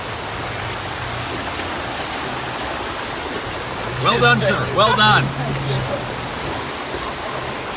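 Steady broadband rush of a flooded river running through Bangor, a constant water roar throughout, with a voice speaking briefly over it midway.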